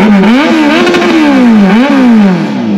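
A 2023 Suzuki Hayabusa superbike with a loud aftermarket exhaust revs hard and close, its pitch rising and dipping in repeated throttle blips, with a deep roaring, crackling tone throughout.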